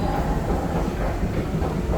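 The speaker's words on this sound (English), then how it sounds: "I go down onto the 7 train platform" A New York subway 7 train rumbles at the platform with a loud, steady clattering roar and rhythmic wheel clicks close by.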